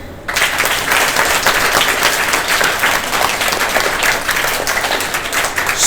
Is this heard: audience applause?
yes